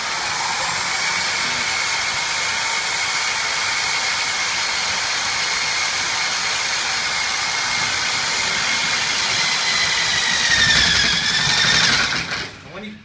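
A T-DRILL Plus-100 pipe tool runs continuously with a loud, steady high-pitched whine as it pushes through a pipe wall, rising into a brief strained squeal near the end before cutting off; a voice speaks faintly underneath.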